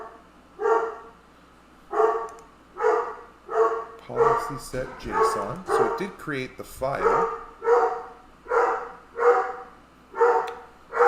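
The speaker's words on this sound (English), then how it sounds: "Sorry about the dog." A dog barks upstairs in a house in steady, evenly spaced bursts throughout, heard indoors from a little distance while someone talks over the middle part.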